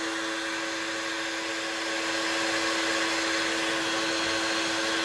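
A heat gun warms the crankcase of an Irvine 53 RC two-stroke engine, giving a steady, close whooshing blow with a faint tonal hum that runs unbroken and alone throughout.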